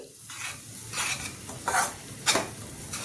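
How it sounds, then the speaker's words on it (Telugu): Dry semolina (rava) being stirred in a pan over a low flame, with soft scraping strokes and a faint sizzle recurring every half second or so, close and fairly quiet. "ఈ రవ్వ ఫ్రై చేసుకుందాం. సిమ్లోనే ఫ్రై చేసుకోవాలండి."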